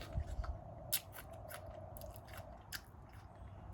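Someone bites into and chews a sour fruit up close during a mukbang, producing quiet crisp crunches and soft wet chewing in an uneven rhythm, with no talking.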